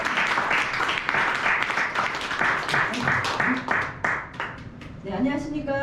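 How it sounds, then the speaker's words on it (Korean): A crowd applauds with sustained clapping at a business seminar in a Busan hotel while a voice talks over it, the clapping fading toward the end. "박수 주십시오."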